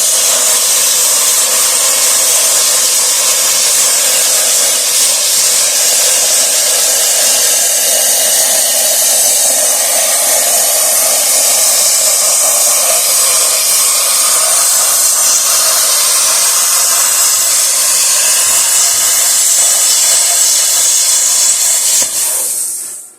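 VEVOR plasma cutter slicing through metal, a loud steady hissing rush that holds without a break for over twenty seconds before stopping, close and alone.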